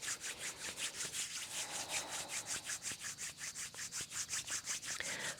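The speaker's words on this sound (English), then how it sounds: "Rub them together, create a warm friction." Palms rubbed briskly together during a yoga session, a fast, even back-and-forth swishing of about four strokes per second, close and steady throughout.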